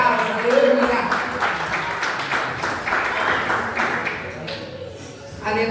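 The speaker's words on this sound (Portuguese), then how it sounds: "Aplaudindo o Senhor, porque o Senhor está na casa" A church congregation applauds during a worship service, a dense wash of many hands clapping at steady loudness for several seconds, with voices and background music mixed underneath.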